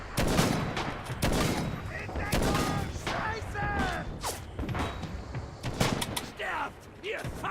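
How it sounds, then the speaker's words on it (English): Heavy gunfire crackles in the Red Orchestra video game: dense, rapid bursts of rifle and machine-gun shots, near and loud, with voices talking over the fire. "So, currently under heavy fire"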